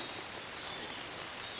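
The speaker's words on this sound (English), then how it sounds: "black clouds and it's raining right now" Steady rain falling in dark woods under black clouds, a constant even hiss of drops on leaves and ground throughout, fairly close and moderately loud, with no voices.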